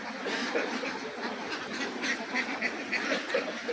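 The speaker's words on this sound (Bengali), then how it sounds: "এখন অনেক হাঁস দেখা যাবে" A large flock of ducks on a duck farm of about 4,500 birds quacks in a busy overlapping chorus, moderately distant and steady, with no talking.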